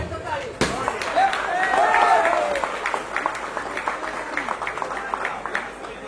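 A crowd at an Odia jatra open-air theatre performance claps loudly as someone comes onto the stage. The applause swells and then thins, with a whistle-like tone and some voices mixed in.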